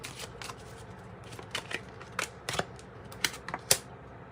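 Tarot cards being shuffled and drawn, a close series of crisp riffling flicks and snapping slaps coming in irregular bursts with brief pauses between them.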